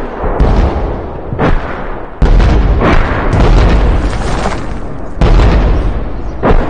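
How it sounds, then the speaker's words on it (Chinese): Artillery shelling of Japanese positions in a wartime TV drama: a series of deep, loud booms and blasts, with several sharp onsets and rumbling tails overlapping through the whole stretch, and no voices. "命令炮兵轰击鬼子的阵地。"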